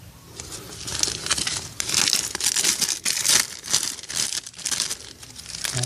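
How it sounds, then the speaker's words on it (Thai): A heat-resistant plastic bag crinkles and rustles loudly up close in irregular bursts as it is pulled over mulberry cuttings. "ก็นำถุงพลาสติกนะครับถุงกันร้อนนะครับมาคลุมทั้ง4ต้น"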